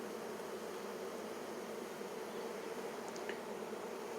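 Honey bees hum in a steady, dense buzz around an opened foundationless Flow Hive brood box. The swarm drone is faint but continuous throughout, with no talking.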